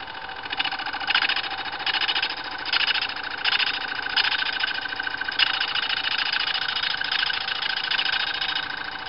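A wood lathe spins a tobacco pipe blank, giving a steady mechanical whir with a rhythmic pulsing where the cutting tool meets the wood. The sound stays close and continuous with no talk.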